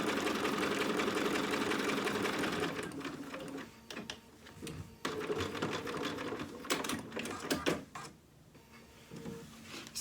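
A sewing machine bastes a collar onto a dog dress outfit, whirring steadily up close for a few seconds, then breaking into shorter stop-start runs with clicks and handling noises, no talking.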